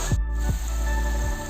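Mochai (field bean) seeds fry in hot oil with a steady, close sizzling hiss and a few sharp crackling pops, the bubbling settling into a constant spitting fizz.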